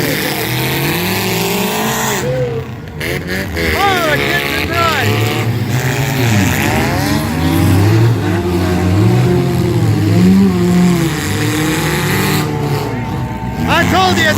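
A 2009 Dodge Caliber in a race accelerates with a loud, sustained engine roar that climbs and dips through gear changes, with excited commentary running over it throughout.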